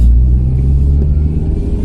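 A supercharged Mini Cooper S R53 engine pulls hard during a timed acceleration run, a loud, close, steady rumbling drone with rising tone and no talk.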